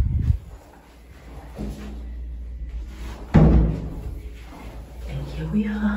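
Doors open and close in an apartment building stairway, with a soft thud early on and a louder bang or slam midway, followed by rustling and shuffling in a quiet indoor space.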